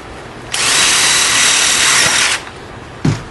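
A power drill bores into painted wood window framing, a loud whirring burst of about two seconds that stops abruptly, followed by a short knock of the tool or workpiece.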